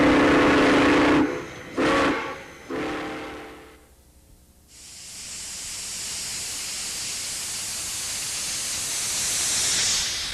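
A small steam train at a 1994 Rollag steam threshing show gives sharp whistle blasts, then a long loud hiss of steam rises and holds steady, close by with no talk.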